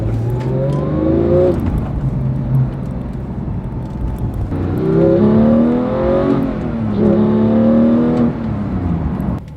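A manual 2018 Porsche 911 GT3 engine revving hard from inside the car, loud and close, with rising and falling pitch sweeps through gear changes and a brief dip between pulls, no talk.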